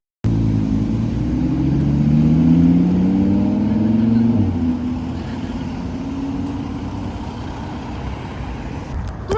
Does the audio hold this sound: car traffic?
yes